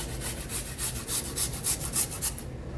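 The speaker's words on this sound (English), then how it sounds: "Grate over 2 big fat cloves of garlic." Garlic cloves grated over a lemon sole traybake, giving a close, rhythmic rasping scrape in quick repeated strokes for a few seconds before stopping.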